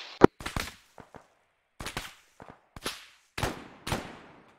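Bursts of video game gunfire crack in short, separate volleys, some single shots and some rapid clusters, each sharp and loud with a brief decay, spaced by quiet gaps.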